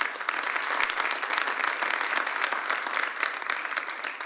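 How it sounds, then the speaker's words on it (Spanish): Congregation applauding in a church, a dense, steady wash of many hands clapping at close range throughout, with no talk over it. "Denle un aplauso al Señor."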